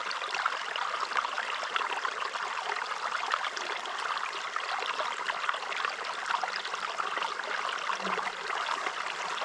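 Water swirls and trickles steadily up close as gravel is panned for gold outdoors, with a continuous rushing wash and no talking.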